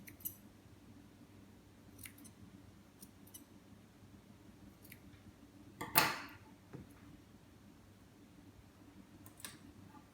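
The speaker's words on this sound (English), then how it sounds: "I'm going to cut a V section out of there." Scissors snipping a V section while shaping a small craft dog for a dog-in-a-cup puppuccino: a few quiet, sparse snips spread across the stretch, with one louder, sharper cut near the middle, heard alone in a quiet room.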